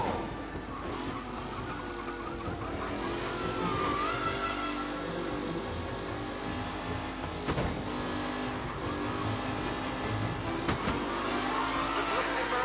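Race cars in a PS4 racing video game, with steady engine drone and revving throughout, a couple of sharp transient bumps, and faint commentary beneath.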